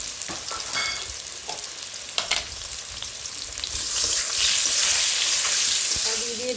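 Vegetables fry with salt and turmeric in a pan, a steady close sizzle that swells louder partway through, with light stirring scrapes and no talk.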